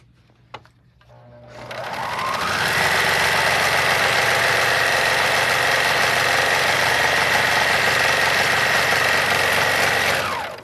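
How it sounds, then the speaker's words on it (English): A sewing machine chain stitches the cuff of a pillowcase, starting with a click and then running at a fast, steady whir with buzzing vibration for several seconds before it stops, loud and close. "I got to sew the cuff together, right sides together with a 1/4 inch seam."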